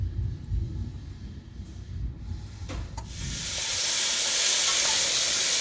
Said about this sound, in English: And then we're adding the celery, carrot, and chickpeas to the hot pot and stirring occasionally until slightly softened